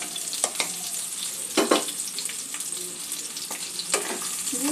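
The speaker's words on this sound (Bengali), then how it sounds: "আমটা 2-1 মিনিট নাড়াচাড়া করে নিয়ে গুড়টা দিয়ে দেব।" Raw mango pieces are stirred in a hot pan, making a soft, steady sizzle with repeated scraping strokes of a spoon against the pan at irregular intervals.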